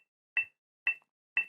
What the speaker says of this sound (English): So I'm going to turn on a metronome to 120.